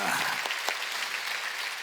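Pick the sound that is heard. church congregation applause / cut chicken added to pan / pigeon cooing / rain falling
church congregation applause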